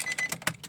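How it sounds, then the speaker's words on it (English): The ignition on a Nissan 200SX is switched on, giving a short burst of close clicks and soft electronic whirring pulses. "Turn ignition on."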